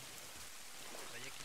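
Steady rain falls with a faint, even hiss throughout, and a voice seems to murmur quietly beneath it.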